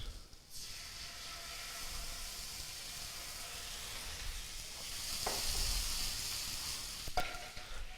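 White wine hitting a very hot pan where fish sears with capers, giving a steady faint sizzle and hiss that swells slightly mid-way, with a couple of short clinks, no talk.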